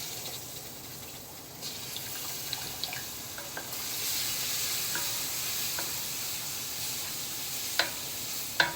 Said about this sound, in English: I'm gonna go ahead and add the tomato sauce in